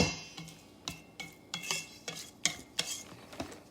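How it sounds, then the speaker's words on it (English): Pancake batter being stirred with melted butter, a spoon or utensil scraping and clinking against the bowl in a steady series of soft strokes, close and alone. "So we're gonna give it one more stir."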